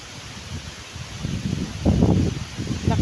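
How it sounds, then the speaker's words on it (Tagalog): Strong wind gusts through trees outdoors, leaves rustling in rising and falling bursts over a faint constant hiss, growing loudest midway before easing off. "Lakas ng hangin guys oh."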